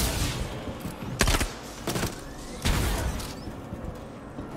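Crossfire in a video game, with scattered sharp shots and a few louder booming bursts standing out against a rumbling, busy background, with no talking.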